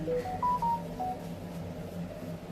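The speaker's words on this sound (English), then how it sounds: "Oh, I forgot to turn my sound off on my phone." A mobile phone gives a notification alert, a short series of bright electronic tones stepping in pitch, heard over a steady background hum.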